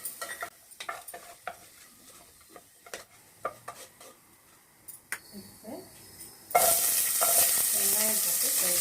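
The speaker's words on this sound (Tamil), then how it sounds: "வெங்காயம் போட்டு ஃப்ரை பண்ணணும்." Sparse clinks and scrapes of a spoon in a pan give way to a sudden loud, continuous sizzle as onions drop into hot ghee for ghee rice, with stirring clatter over the frying.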